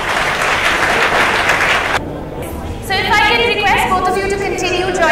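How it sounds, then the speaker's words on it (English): An audience at a book launch bursts into loud, dense applause for two seconds, then it cuts off and scattered clapping continues beneath crowd chatter. "A round of applause once again"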